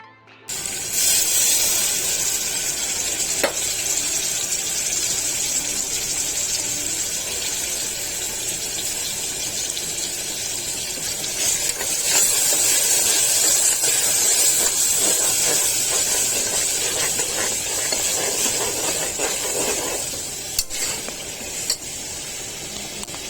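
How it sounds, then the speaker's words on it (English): Prawns frying in a hot pan for a turnip and coconut milk curry, giving a steady, loud sizzle and hiss that holds throughout with a few brief spits and crackles and no voices. "Add the prawns to the pan and continue to fry."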